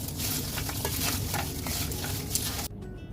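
Sugar-coated diamond cut snacks are stirred in a pan, giving a continuous dense rustling and scraping patter under soft hiss, which drops away abruptly near the end.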